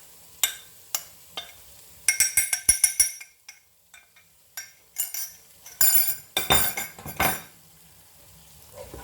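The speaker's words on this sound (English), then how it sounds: "Give it a good stir." A spoon clinks and scrapes against a metal pot while cumin, pepper and fennel powders are stirred into prawn biryani, bursts of sharp clatter separated by brief pauses, close and fairly loud with no voices.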